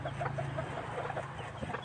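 A chicken clucks in a quick, steady series of short calls, close by but fairly soft, with farmyard background noise and no speech.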